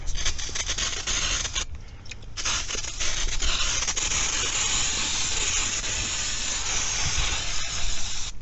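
A continuous aerosol spray hisses steadily for several seconds, broken briefly by a short pause before resuming, loud and close.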